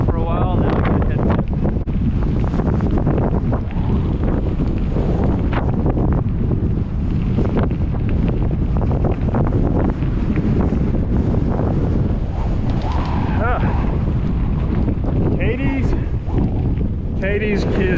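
Strong wind buffets the microphone of a cyclist riding a long gravel route, a loud continuous roar and rumble throughout, with someone speaking over it at times.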